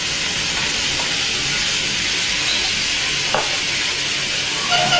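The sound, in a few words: whiskey flambé igniting in pan with onions, mushroom, garlic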